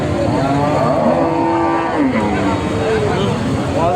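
Cattle at the Muktagacha Notun Bazar cow market in Bangladesh, where cows with calves are sold, moo in long, drawn-out calls close by, over a steady crowd murmur and people talking.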